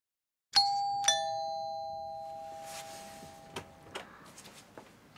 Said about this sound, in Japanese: 心配になってしまってちょっとインターホン押しちゃいました